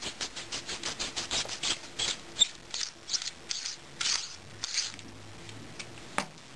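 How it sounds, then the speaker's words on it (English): Threaded end cap unscrewed from a Max-Flo manifold regulator: a quick run of soft scraping, clicking turns, then sparser rubs, faint and close. "To begin with, just unscrew the end cap."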